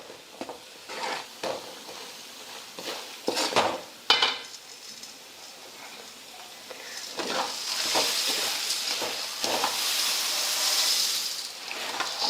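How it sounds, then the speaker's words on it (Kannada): Puffed rice churumuri being tossed with masala in a pan for an evening snack, giving soft repeated scraping and rustling stirs with light utensil clinks, close and steady, growing denser and more continuous toward the end. "ಇದೆಲ್ಲ ಚಲೋ ಹೊತ್ನಾಗೆ ಮಿಕ್ಸ್ ಮಾಡ್ತೀನಿ ರೀ"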